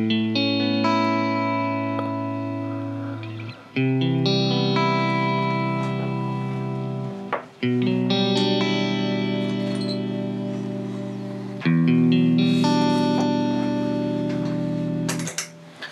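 Electric guitar chords ring out through a flanged echo delay with added reverb, four sustained strums each swirling and shimmering as they decay, played alone without talk.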